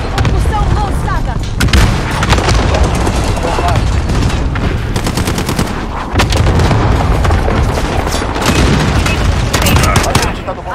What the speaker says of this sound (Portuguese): Ataque de dispersão inimigo iminente.